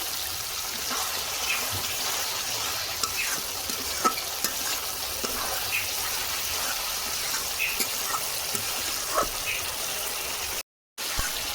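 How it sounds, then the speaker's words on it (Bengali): Oil sizzles and hisses steadily in a pan as a little water goes in while rui fish curry cooks, with faint stirring scrapes and a brief cut to silence near the end. "খুব সামান্য এখন জল দিচ্ছি"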